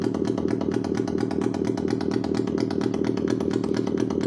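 A circuit-bent Yamaha PSR-12 keyboard puts out a steady, loud buzzing drone that imitates an idling motorcycle engine, rattling continuously and evenly throughout with no talk.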